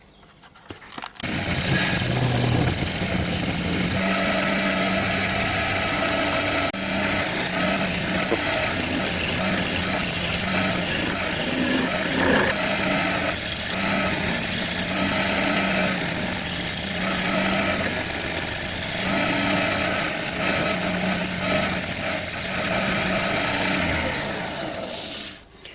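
A wood lathe spins a small witch's cauldron being turned, producing a loud, sustained motor hum and whir that starts abruptly, runs steadily for about twenty-five seconds, then winds down at the end.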